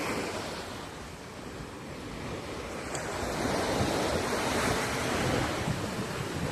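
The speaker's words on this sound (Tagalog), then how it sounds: "Ayan ang dagat sa gabi." Ocean surf rolling onto a Boracay beach at night, a continuous broadband wash of breaking waves that swells slightly in the second half, with steady wind rumbling across the microphone.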